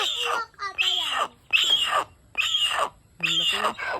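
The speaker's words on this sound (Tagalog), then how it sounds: "Uwak ata yan." A large crow gives a series of five loud, harsh caws close by, each call separated by short pauses, with no talk over them.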